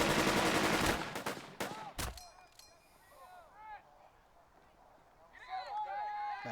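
Burden of Command, a WWII tactical video game, plays loud bursts of rapid gunfire during the storming of the Casablanca garrison, followed by quieter scattered battle effects and distant shots.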